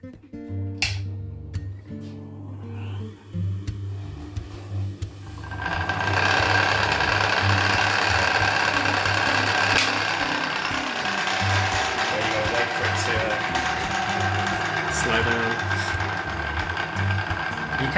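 A small electric sewing machine motor, driving a Flexispeed Mk2 metal lathe, starts up and settles into a steady whirring drone with a faint mechanical buzz, running continuously in a quiet workshop.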